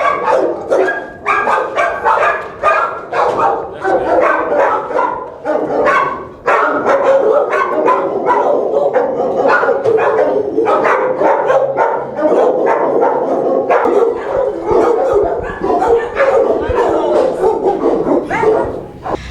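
Many dogs bark and yip loudly and continuously inside an SPCA animal shelter building, a dense chorus of overlapping barks with no pauses and no talk over it.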